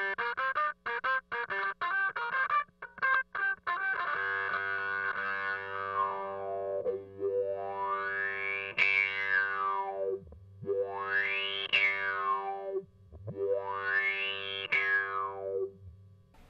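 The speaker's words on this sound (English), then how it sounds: "If I'm plucking a single note and turning through the filter manually, what a neat sound." Single plucked guitar note through a Kangra Fuzz pedal, first a few quick picked notes, then a long distorted tone whose filter is swept manually up and down in three slow rising-and-falling arcs, heard alone.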